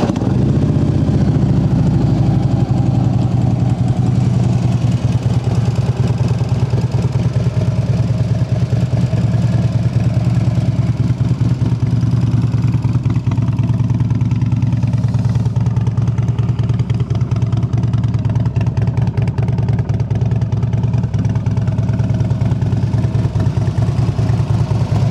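A used Harley-Davidson Street Glide FLHX with 8,300 miles idles loudly nearby and revs repeatedly, its engine note rising and falling steadily for the whole stretch.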